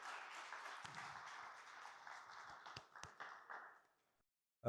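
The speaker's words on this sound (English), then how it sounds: "please, a round of applause for these guys" Scattered applause from a small audience, a few sharp claps standing out before it fades into silence.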